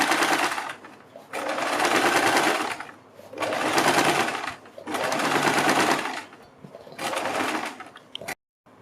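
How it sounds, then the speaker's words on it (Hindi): A sewing machine stitches a kurti neckline in four loud, close bursts of about a second or more each, with short pauses between runs, followed by a sharp click near the end. "बीच में सिलाई लगाने के बाद हम बुकरम के बिल्कुल बराबर में पूरे गले के ऊपर सिलाई लगाएंगे।"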